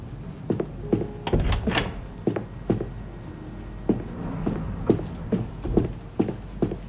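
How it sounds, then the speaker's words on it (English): Repeated dull thumps and rattles of a locked door being tried in the video game The Darkest Files, several knocks spread across the stretch over low background ambience. "The door is locked."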